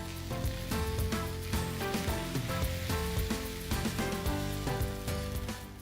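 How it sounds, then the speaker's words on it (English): Rava onion dosa batter sizzles loudly and steadily on a hot tawa over high heat, a close, continuous hiss and crackle with some faint background tones and no talk. "I have a pan here which is on high heat"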